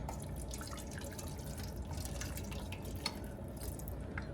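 Hot water trickles and drips steadily into a pan of stuffed-pepper sauce in a home kitchen, a continuous close splashing pour with no talking.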